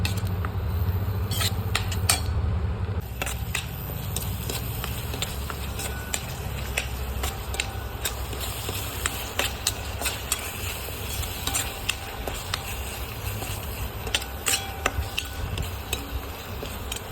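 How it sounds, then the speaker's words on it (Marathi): Onion-tomato masala paste fries in oil for matar paneer, giving a steady sizzle with frequent sharp spatula scrapes and clicks against the pan throughout. "कांदा टोमॅटोची पेस्ट मसाला आता त्याच्यामध्ये मस्त आपल्याला तेल सुटूपर्यंत फ्राय करून घ्यायचं आहे"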